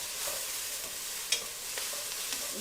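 Chicken chili being stirred in a pot, with a steady soft sizzle and a couple of faint scrapes and clinks from the spoon, quiet and close with no voices.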